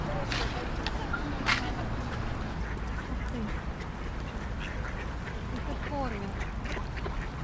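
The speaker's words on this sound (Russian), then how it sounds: "Смотрите, какие уточки." Ducks quack in short bursts at a duck farm in Holosiiv, Kyiv, over steady outdoor rumble and wind, with people talking nearby.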